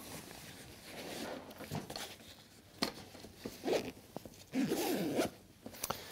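Zipper being pulled open on the back panel of a Clik Elite Contrejour 35 outdoor camera backpack, a series of close raspy zips in uneven bursts with fabric rustle and handling noise, no talk.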